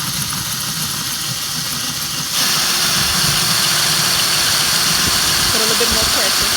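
Drill boring a hole through a pot, a steady loud whirring grind that gets louder partway through and runs continuously, close up.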